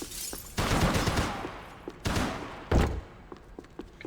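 Gunfire from the video game Max Payne 3 comes in several sharp bursts of shots, loud and near, separated by brief pauses, with scattered smaller cracks trailing off at the end.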